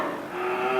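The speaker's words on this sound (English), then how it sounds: "We have 19 varieties of Deshi cows" At a cow shelter, a Desi cow lets out one drawn-out moo that rises in pitch over a low hum of background noise.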